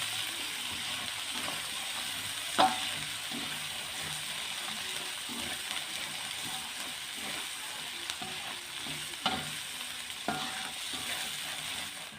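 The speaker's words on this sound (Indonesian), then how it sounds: "Aduk-aduk kembali, tumis bumbu sampai tanak." Spice paste with cloves and palm sugar sautés in a pan, giving a steady close sizzle and hiss with occasional scraping clinks from stirring.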